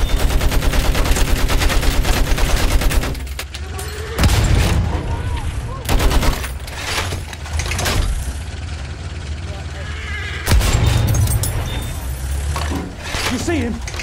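In Battlefield 1, a World War I shooter, a machine gun fires a rapid, steady burst, followed by scattered heavier shots and booms amid vehicle rumble, with players talking over the battle noise.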